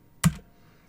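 A single short keystroke clacks on a computer keyboard while network router commands are entered, one sharp tap and then near quiet.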